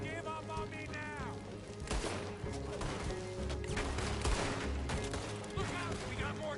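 Gunfire in Red Dead Redemption II: rapid overlapping shots and rattling bursts in a chaotic firefight, with shouting voices and music running underneath.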